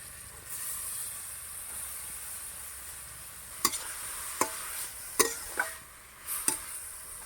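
Boiled cabbage hits a hot pan with a spice paste, giving a steady low sizzle and hiss, then sharp metal scrapes and clinks from stirring near the end. No one speaks.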